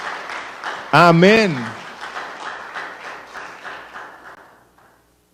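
A church congregation applauding during a Sunday service, scattered claps under a voice that calls out once, then the clapping thins and fades to silence.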